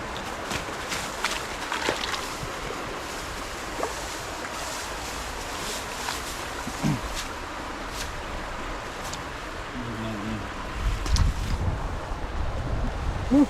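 Strong wind rushes and buffets against the microphone outdoors, a constant roaring gust with occasional louder blasts and faint distant voices.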